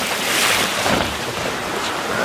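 Choppy sea water sloshing around a sailing boat near Solway Pass in the Whitsundays, a steady broadband wash and splash with wind buffeting the microphone, continuous and close throughout.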